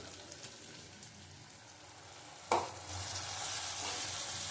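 Prawn curry cooked with milk fries in a pan, a soft sizzle that swells after a stirring scrape midway and then holds louder.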